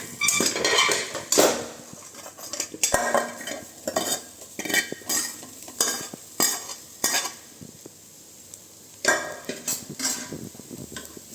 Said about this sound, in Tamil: இதை ஒன்றா சேர்த்து மிக்ஸ் பண்ணிக்கலாம்